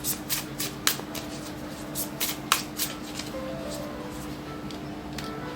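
Tarot cards shuffled by hand in a series of crisp riffling bursts and slaps at close range, with a faint steady hum underneath and no talking.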